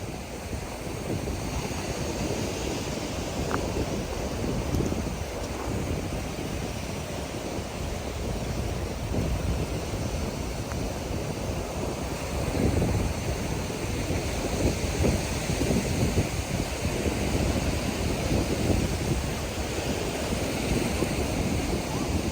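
Surf rolls onto the beach of Keewaydin Island, Florida, a dense, continuous wash of breaking waves mixed with gusting wind buffeting the microphone, steady and close with no talk.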